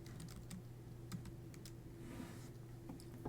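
Typing on a computer keyboard while building an assessment, soft scattered key clicks in an irregular rhythm over a steady low electrical hum, close but faint.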